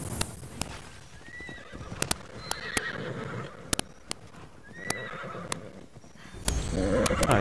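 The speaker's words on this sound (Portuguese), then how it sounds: "Aqui tem uns cavalos normal também, vou pegar um cavalo normal pra mim." Horses in the video game Immortals Fenyx Rising whinny loudly several times, and their hooves strike the ground in sharp clip-clop beats. A louder whinny comes near the end, with no speech.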